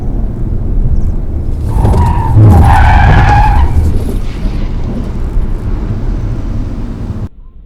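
Tyres of a 2023 BMW M340d Touring skid loudly through a moose-test swerve, a sustained squeal rising and wavering in pitch over several seconds, close and dominant, then cutting off abruptly.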